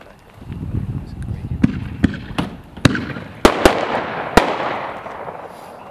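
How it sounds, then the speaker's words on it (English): Black Box Artillery Shells, 1.4G consumer fireworks, burst at a night demo: a series of loud, sharp booms at irregular intervals over a crackling rumble, with a voice briefly underneath. "Next we're going to do number 36, which is Black Box Artillery Shells."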